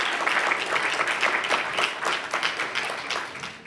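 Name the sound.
audience applause for young men at Juneteenth event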